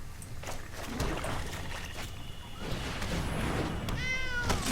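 A cat meows in a video card game, a short synthetic mew rising near the end over a busy, continuous background of game effects and watery sounds.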